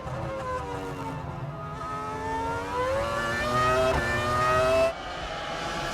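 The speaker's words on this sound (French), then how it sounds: "Häkkinen et Coulthard prennent un très bon départ et les Jordan s'intercalent entre les Ferrari" Formula 1 cars roar off the start of the 2000 Australian Grand Prix, several high-pitched engines climbing through the revs together before one shifts gear and the pitch drops.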